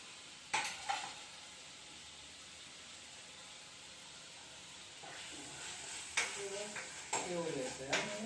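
Quiet background frying with a few close clatters and scrapes of stirring as tomatoes cook in a pan for mushroom bhaji over a slow flame.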